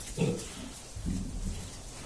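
Pigs and large weaned piglets grunt and oink in a pen, a couple of low snorting bursts close by over a noisy background.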